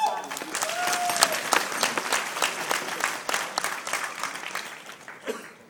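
Guests at a wedding-weekend reception applaud the hosts with a burst of clapping that peaks early and slowly fades out, with a few cheers and voices mixed in.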